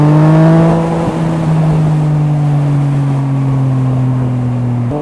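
Yamaha MT-09 motorcycle with an Akrapovič exhaust under steady engine drone, a sharp pop around one second and another near the end as gears change, loud and close.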